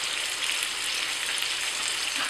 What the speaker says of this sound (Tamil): எப்படின்னா எண்ணெயிலே தான் வேகுது